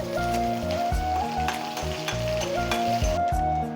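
Ginger and garlic cloves sizzle and fry steadily in hot oil in a pan for a South Indian kaadai gravy, a loud continuous crackle with stirring, no voices.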